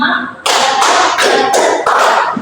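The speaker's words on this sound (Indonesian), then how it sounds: "tepuk 1, tepuk 2, tepuk 3, tepuk 4, tepuk 5" Hands clap loudly in a steady counted rhythm during a classroom teaching exercise, five or six sharp, evenly spaced claps following a brief quiet moment.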